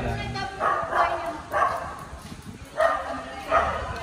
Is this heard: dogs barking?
yes